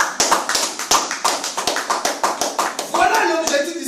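A French-speaking church congregation claps in a brisk, even rhythm to acclaim Jesus, sharp close claps repeating several times a second, with voices rising in the last second.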